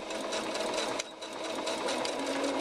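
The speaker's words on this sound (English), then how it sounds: "Now I'm just going to sew down the side." A sewing machine runs fast and continuous, stitching down the side of a tote bag lining, briefly pausing once before whirring on at close range, with no talk.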